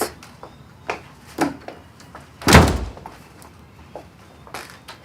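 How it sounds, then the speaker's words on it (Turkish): A door swings shut with one heavy, close slam midway, surrounded by a few faint knocks and footstep-like thuds in a quiet room. "Kapıyı kapat."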